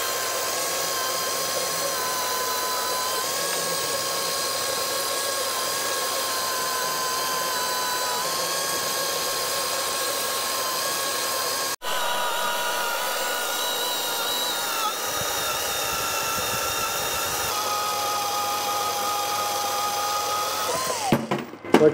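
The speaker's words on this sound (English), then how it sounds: "We're going to make a cut going straight down in here and then continue shaving more off this" A power tool cuts steadily into the mount on a Dana 60 axle, a continuous loud mechanical whine that shifts pitch partway through and ends in a brief burst.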